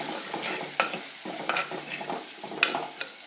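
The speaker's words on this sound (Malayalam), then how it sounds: "ഇനി നന്നായിട്ട് ഒന്ന് മിക്സ് ചെയ്തെടുക്കണം" Spice powders, chilli, ground fenugreek and cumin, stirred in a hot pan, giving repeated scraping strokes with brief sharp clinks over a soft steady sizzle, close and alone.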